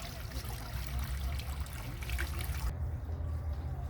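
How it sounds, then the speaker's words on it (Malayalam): Water trickles and gurgles steadily in a shallow irrigation channel on a vegetable farm, a continuous close, bubbling flow with a low rumble underneath. "ആ ഒരു കൈത്തോട് പോലെ ഇങ്ങനെ വെള്ളം ഇങ്ങനെ ഒഴുകിക്കൊണ്ടിരിക്കുന്നുണ്ട്"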